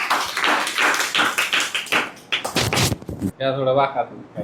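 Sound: applause, clapping

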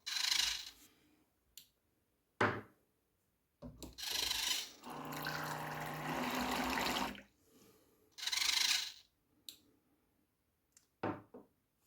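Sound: four-shot alcohol dispenser pouring into shot glasses

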